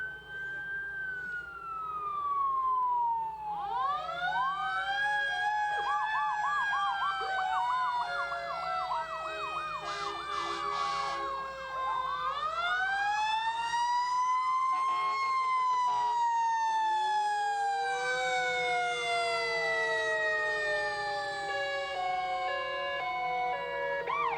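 Fire engine siren in a 4th of July parade in Burlington, wailing electronic tones sweeping up and down with yelping bursts, loud and close, sustained throughout with street ambience beneath.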